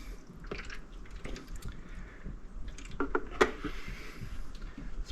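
Water poured from above into the bottom of a plastic seed-starting tray holding tomato, flower and onion seedlings indoors, giving a soft, steady trickle with scattered drips and splashes, plus a brief brighter splash near the end.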